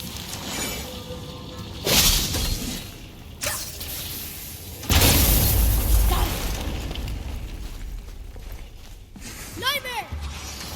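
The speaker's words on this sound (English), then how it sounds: "I will never get tired of shattering things with this." Objects shattering in the God of War video game, heard as sharp, loud bursts and crashes scattered across a busy backdrop of combat whooshes and rumbling, with game voices heard throughout.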